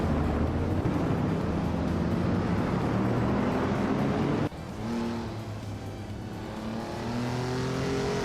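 Race cars in a racing video game roar with engine drone, then shift to higher revving whines as the cars accelerate. No one talks.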